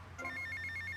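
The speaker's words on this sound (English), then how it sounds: "I had to make sure that the phone call gets cancelled quickly here." A phone rings in the video game Grand Theft Auto: Vice City – The Definitive Edition, a steady electronic trill that repeats in quick pulses over a low game-ambience hum.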